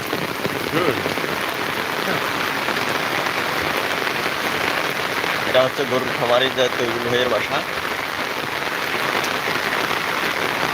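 Steady rain pattering on a surface throughout, with people talking over it and a brief tonal sound partway through.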